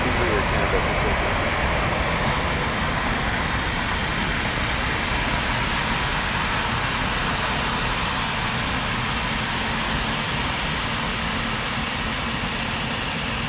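An Air Canada airliner landing on runway 23 at Toronto Pearson, a loud, continuous broadband jet roar heard from a distance, steady throughout, with radio chatter from air traffic control over it.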